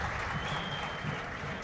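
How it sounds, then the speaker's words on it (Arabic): Stadium crowd at a football match between Stade Gabèsien and JS Kairouan applauds a substitution at the Olympic stadium in Gabès, a dense, steady wash of clapping filling the whole moment under a commentator's voice. "هاو تغيير تحت تصفيق كبير من جماهير الحاضرة لهنا في ملعب أولمبي جيبس."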